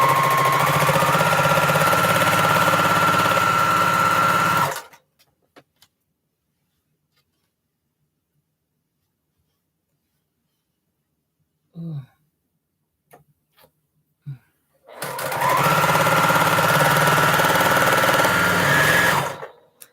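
A sewing machine runs in two sustained bursts of steady mechanical whirring and rapid stitching, about five seconds each, separated by a long quiet gap with a few faint clicks and brief sounds.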